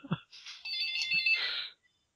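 A phone ringtone plays a short, close melodic jingle of about two seconds, with a few soft clicks before it starts.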